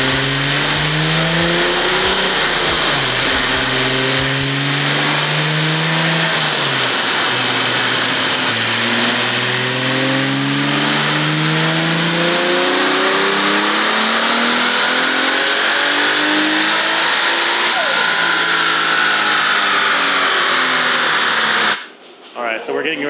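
A car engine revs hard on a dyno roller making about 815 wheel horsepower, rising in repeated loud sweeping pulls through the gears for over twenty seconds before cutting off abruptly near the end.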